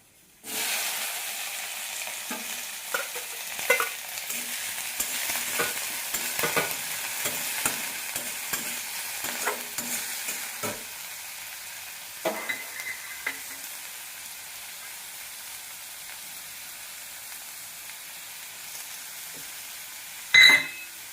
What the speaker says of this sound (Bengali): এখানে পেঁয়াজ দিচ্ছি একটু বেশি করে আর কাঁচা লঙ্কা এটা তেলে দিয়ে দেবো